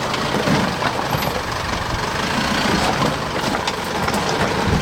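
An Isuzu D-Max truck's engine idles with a steady, even rumble at moderate distance, a continuous rough drone with no voices over it.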